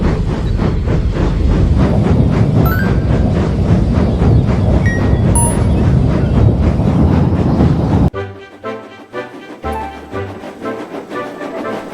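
Gordon, a steam engine, puffing steadily along while hauling a freight train, a dense continuous rumble and chuff with faint rhythmic rail clatter, then dropping to sparser, quieter clanks near the end.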